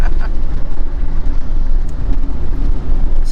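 Steady roar of cars rushing past on a Spanish motorway, continuous broadband traffic noise that stays loud and close for the whole stretch.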